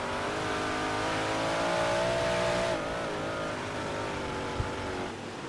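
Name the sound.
big block modified race cars racing at Knoxville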